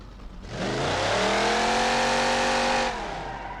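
A Plymouth Roadrunner muscle car with a big intake scoop in the BeamNG.drive driving game revs up into a loud, steady, mean-sounding roar, then cuts off sharply near the end.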